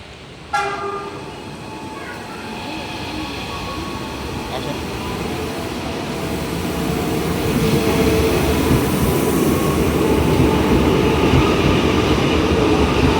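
A Jakarta commuter electric train horn toots once near the start, then the steady rumble and rattle of the train building as it rolls along, loud and continuous.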